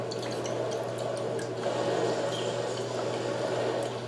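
Soy sauce and Worcestershire sauce pour into a jerky marinade for deer or beef, a low steady liquid trickle with faint drips over a constant background hum.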